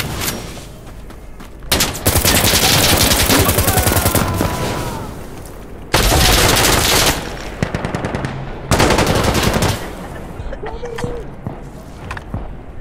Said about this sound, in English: I'm sorry, I shoot the enemy.